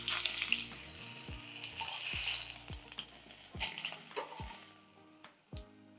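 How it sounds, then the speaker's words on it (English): Beef fillet steak sears in a hot pan under a steak weight, a dense bright sizzle running throughout, punctuated by sharp clicks and small knocks from the pan and weight. "So we're going to give our steak around a minute to 90 seconds per side, and we'll make sure we sear the outside off as well."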